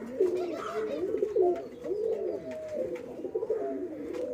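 Naptha and black Kotki hen pigeons coo in a loft, deep rolling calls repeating and overlapping at close range, with a few light clicks and rustles in between.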